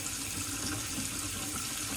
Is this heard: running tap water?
yes